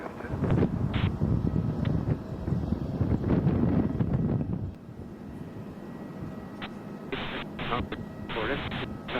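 Strong wind buffets the microphone on the observation deck at Kansai International Airport as planes land, giving a rough, heavy rumble for several seconds that eases into quieter gusts. Air traffic control radio chatter and beeps play over it.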